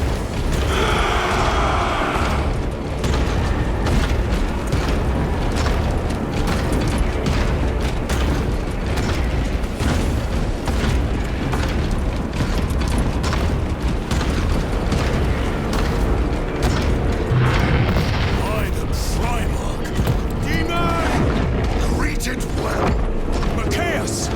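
Relentless battle din in Warhammer 40,000 Space Marine 2: dense gunfire, booming explosions and clanking mechanisms form a continuous loud wall of sound, with shouted voices mixed in.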